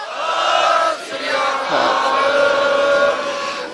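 A protest crowd at the Insaaf Morcha in Mohali roars back the Sikh jaikara war cry in unison. The broad, sustained shout swells, dips briefly, then rises again.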